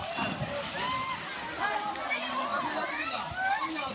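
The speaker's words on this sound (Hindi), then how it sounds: "स्विमिंग पूल में कुछ लोग तैराकी करते दिखाई दिए।" Water sloshing and splashing in a swimming pool as people swim and play to beat the summer heat, a continuous wet churn under steady crowd chatter and voices throughout.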